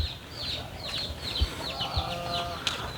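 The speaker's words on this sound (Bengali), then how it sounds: "এই যে হাঁস আছে এখানে" Ducks and geese on a farm in Rajshahi's Chapainawabganj countryside give off a run of repeated high chirping calls with a brief nasal honking stretch midway, fairly close, with no talking.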